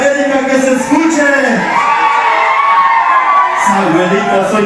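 A party crowd of wedding guests bursts into a loud group shout cheering for Club América, several voices whooping together over background music.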